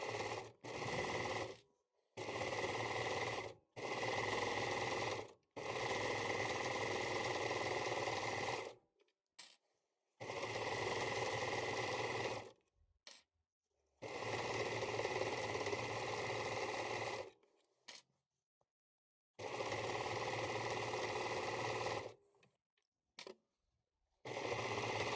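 A sewing machine stitches a hoodie seam in quick runs, its fast even whirr starting and stopping repeatedly with short silent pauses between bursts, close and fairly quiet.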